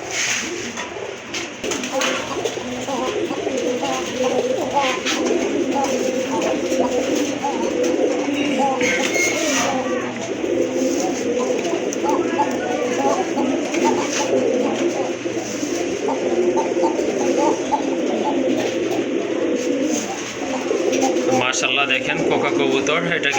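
Pigeons coo repeatedly nearby while someone talks over them throughout.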